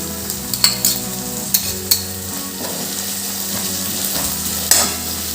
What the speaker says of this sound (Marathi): आता हे सर्व साहित्य आपण तेलात छान परतवून घेऊ